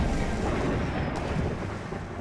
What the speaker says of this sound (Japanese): 雷が鳴るようになりました。